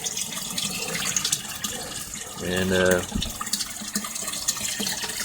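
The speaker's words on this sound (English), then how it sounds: "that's where the water comes in, and it drains out to this pipe" Water flows into an IBC tote in a backyard aquaponics system, giving a soft continuous trickle with a brief louder gush partway through, while someone talks over it.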